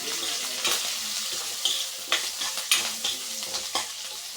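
Curry leaves and coriander are stirred into a sizzling pan for an egg fry, soft frying hiss punctuated by several sharp scrapes and taps of a spoon against the pan.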